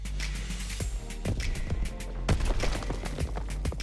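Waffe 28 submachine gun firing in Call of Duty WW2, with rapid bursts of gunfire over a constant low game rumble and scattered sharp shots and impacts.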